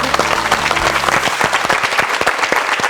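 Vigorous applause from a TV studio audience follows a former Miss Korea's walking demonstration, with many hands clapping steadily and loudly close by for about three seconds.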